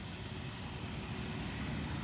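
A China Southern Boeing 777 airliner takes off, heard as a steady, broad engine roar from a distance, fairly faint and unbroken throughout.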